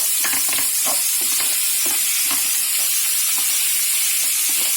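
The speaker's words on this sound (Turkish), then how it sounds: "Şimdi dökelim bulgurumuzu. Evet. Şöyle bir karıştıralım." Bulgur stirred into a hot pan with sautéed vegetables sizzles loudly and continuously, with spoon scrapes and stirring rustles pulsing through the hiss and no voices.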